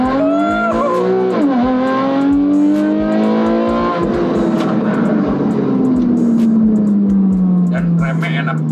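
A 2012 Porsche Carrera S accelerates hard, its engine note climbing steadily through a gear change, loud and close inside the cabin with a voice speaking over it.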